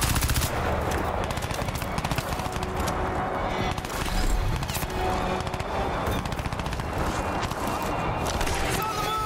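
Video game gunfire rattles in rapid automatic bursts of sharp cracks, repeating steadily throughout amid dense game sounds.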